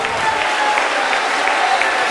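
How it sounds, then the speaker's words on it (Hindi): Dense, steady applause from an audience at a Jain religious discourse in Sironj, sustained clapping filling the room with no speech over it. "तालियां बजाओ, जोरदार तालियां"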